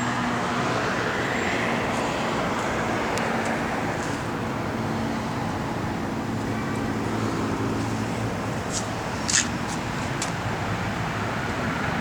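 A 1970 Chevrolet Chevelle SS with a 468 big-block engine, headers and an aluminum intake idles with a steady, loud, deep rumble that continues without a break, heard close and alone.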